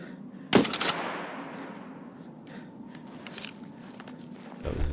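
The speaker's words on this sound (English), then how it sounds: "Up there shooting at someone." A single sharp burst of gunfire from a scav in Escape from Tarkov cracks out near the start, its tail ringing away into a quieter ambient bed, with fainter shots and footstep-like clicks scattered afterward.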